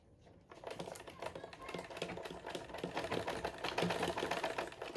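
Sewing machine stitching a bodice block on fabric, a fast rhythmic mechanical clatter starting after a brief quiet moment and building slightly in loudness, close up with no talk.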